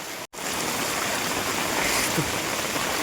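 Steady rushing water from a flooded river in Adhoi, Kutch, reaching a house's porch, fills the scene, a continuous broadband wash like fast-flowing floodwater, with a brief dropout near the start.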